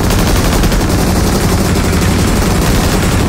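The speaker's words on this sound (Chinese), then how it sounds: "这枪声是不带停的" Sustained, unbroken automatic gunfire from a machine gun in the mobile battle royale game Peacekeeper Elite (PUBG Mobile) during a Metro Royale match, loud and continuous throughout with no pauses.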